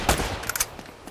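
Rapid gunfire crackles in Uncharted: Drake's Fortune, a short cluster of sharp bursts within about a second, fairly close and alone without speech.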